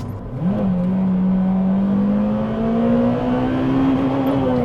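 A standard Honda Civic Type R EP3 engine revs up from idle and holds a rising, loud, sustained drone toward the rev limiter, heard from inside the car, without talking.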